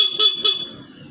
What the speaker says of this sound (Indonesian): Klakson kencang.